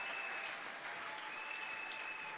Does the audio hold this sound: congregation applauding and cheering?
yes